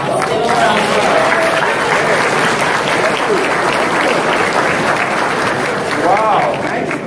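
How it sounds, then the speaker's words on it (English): Applause for an honoree at an awards gala, loud and sustained across the whole stretch as a dense crowd claps, with some voices and cheers mixed in. "Mr. Ron Dobbs. Give him a round of applause."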